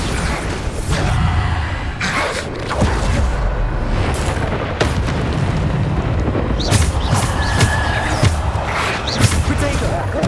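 Bombarda explosion spells go off amid busy spellcasting combat in the Hogwarts Legacy video game, with several booming blasts spaced a second or two apart over dense, loud battle noise.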